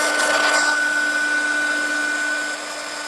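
A heat tool blows hot air to set embossing powder on a handmade paper box, a close, steady whirring drone with a constant motor whine running throughout.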